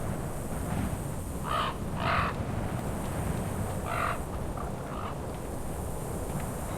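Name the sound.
creepy crow caws in World of Warcraft video game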